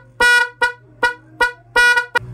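A loud electric motorcycle horn honks in a series of short and longer blasts, close and piercing, with a steady hum underneath.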